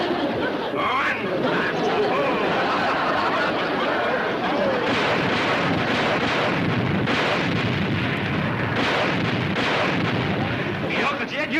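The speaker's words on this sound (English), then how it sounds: "Look at them explosions throw that water in the air." Loud, sustained blasts and rumbling bursts of explosions throwing water into the air, a continuous dense roar over the whole stretch with overlapping booms and some talk beneath.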